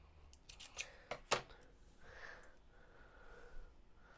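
Scissors snip through the short end of a knotted kandi bead thread, a few quick close clicks clustered together over quiet room tone, followed by faint rustling.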